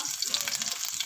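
Garlic fries in cooking oil with a steady, close, crackling sizzle throughout.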